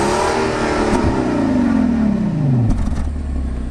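A Rolls-Royce Cullinan pulls away, its engine note loud and close as it sweeps smoothly downward, with a few light clatters near the end.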